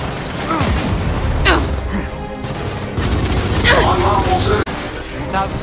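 Grenade blast amid a Gears of War firefight, with booming impacts and rattling gunfire filling the scene at close range, plus a short loud crash near the end and game voices talking over the action.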